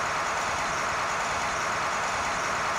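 A KAMAZ 5460 truck in Euro Truck Simulator 2 labors under load with a weak 360-horsepower engine, giving a steady, droning engine rumble with broadband hiss that holds unchanged throughout, with no talking.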